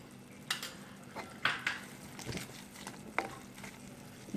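Bitter gourd mixture with lemon juice stirred in a pan, a few soft, scattered scrapes and light clinks of a utensil against the pan over a quiet low sizzle.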